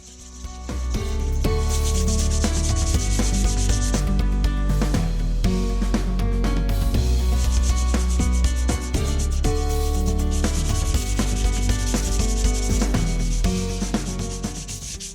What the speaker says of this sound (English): If you sand too much, then you'll have to do another coat